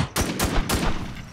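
Three or four sharp, loud shots ring out in quick succession in the zombie survival game Infestation Survivor Stories (WarZ). Each crack has a short echo, and there is no talk over them.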